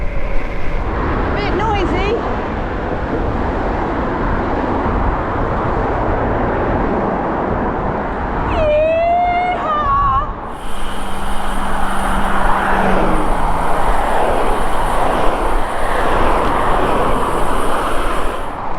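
Strong wind roaring across a cyclist's microphone while riding down a 6% gradient on a bike path towards Weymouth, Dorset; a loud, steady rush throughout, with a brief whistling squeal partway through.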